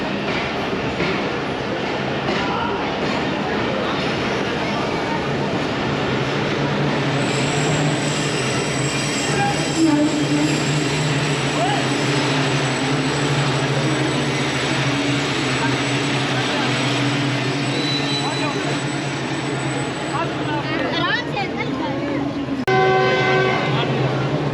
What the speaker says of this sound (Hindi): Finally Jhelum railway station train पहुंच चुकी है हमारी।